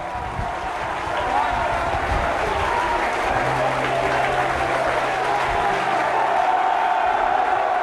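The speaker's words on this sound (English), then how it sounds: "The crowd have gone ecstatic too." A large football crowd applauds and cheers nonstop after Barnet clinch the championship title, a dense, loud wash of clapping and roaring that swells slightly, with a commentator speaking over it.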